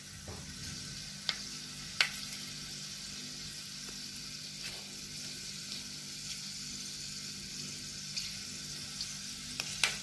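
Garlic and fenugreek fry in hot oil with a steady close sizzle, broken by a few sharp crackles and pops as they are stirred.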